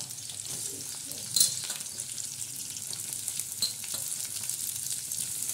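Garlic frying in a pan as onion is added for a methi bhaji: a steady, soft sizzle hisses throughout, with a brief clatter near the start.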